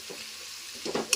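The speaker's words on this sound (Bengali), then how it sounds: "এবার আমি এটা কড়াতে ঢেলে দেব। ভালো করে নেড়ে নেব।" Spice paste for a spicy crab curry poured into a kadai and stirred, giving a short soft sizzle that swells near the end with a few scraping stirs, fairly quiet with no talk.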